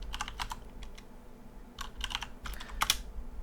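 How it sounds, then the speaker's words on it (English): Bursts of quick, light keystrokes on a computer keyboard clatter close by in short runs with brief pauses, fairly quiet. "Now I can't really see my keyboard when I'm typing because I have the microphone in front of me."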